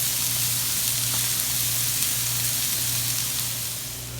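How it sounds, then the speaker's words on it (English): Onions, bell pepper and celery sauté in a pan with a steady, close sizzle and hiss that fades slightly at the end. "we're going to give those just a good stir around, and we're going to let them saute for about 5 minutes."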